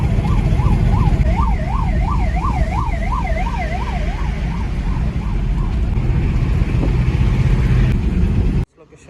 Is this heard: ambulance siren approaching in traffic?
yes